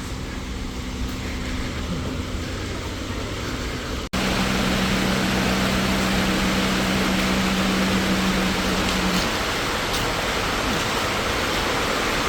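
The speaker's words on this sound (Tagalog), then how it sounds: "Lakas buhos sa ulan." Heavy rain pours in a dense, steady roar, close by in Canada, with a faint low hum underneath that fades out partway through.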